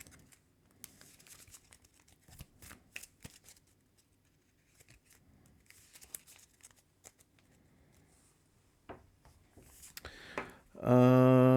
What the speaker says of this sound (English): now we have to shuffle the challenge deck.